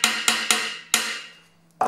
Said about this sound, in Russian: Ставим отвертку и аккуратно молоточком